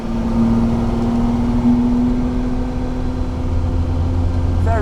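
A Ferrari 365 GT 2+2 V12 engine running, a loud steady low rumble with a sustained droning hum, holding an even pitch close by throughout.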